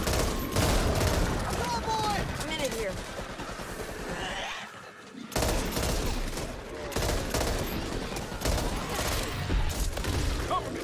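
Rapid gunfire and bursts from zombie-shooter Back 4 Blood, loud and dense through most of the stretch with a brief lull midway, mixed with game noise and players' voices.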